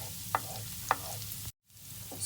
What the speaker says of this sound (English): we're going to add in the garlic. And we're going to saute that until they start to get golden brown